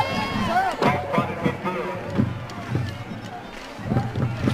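Bulldog student section crowd cheering at a high school football game between the McAllen Bulldogs and San Benito Greyhounds, a steady rumble of fans underneath continuous announcer talk.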